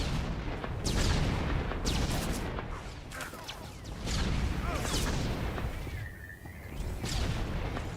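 Spaceship turret fire in the game Star Wars The Old Republic, with heavy booming blasts and bursts of shots over a dense rumble, loud and continuous, with a brief whistling tone partway through.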